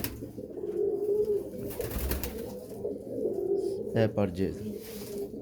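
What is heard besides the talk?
pigeons cooing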